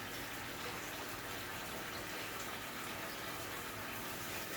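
Meatballs and their cooking juices pour into a pot with part-cooked spaghetti, making a soft, continuous wet gushing and sloshing, faint and unbroken, with no talking.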